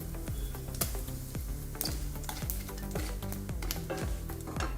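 Whole cumin, green and black cardamom, cinnamon and cloves crackle and sizzle in hot oil, steady and close, with light clicks from stirring in the pan.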